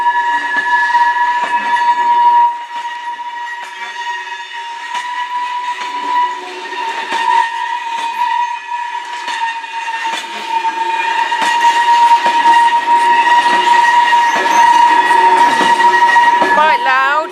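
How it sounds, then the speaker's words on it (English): A Class 66 freight train passes the Bedrington level crossing, a loud sustained rumble with repeated clicking wheels over rail joints and a steady ringing tone from the crossing alarm throughout, building louder toward the end. "This train has been running since 8 o'clock this morning from Fort William."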